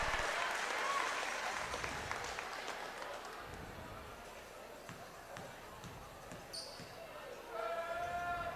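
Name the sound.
basketball crowd cheering a free throw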